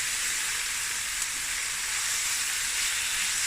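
One kilogram of beef sizzles and fries steadily in a pot for winter stew, a loud, even hiss with no pauses and no voices.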